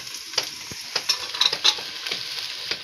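Tomatoes and green peas frying in hot oil for a winter eggplant dish, a steady close sizzle broken by scattered scraping stirs and sharp pops.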